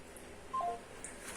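Phone number being dialed during a prank call, a couple of short electronic keypad tones in quick succession, close and clear over low background hiss.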